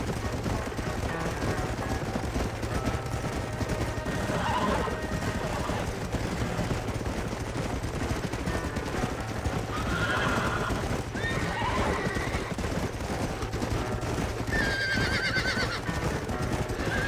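Horses in the Red Dead Redemption video game, with snorts and whinnies over a continuous bed of hoof clip-clop and ambient game sound, moderately loud and steady throughout.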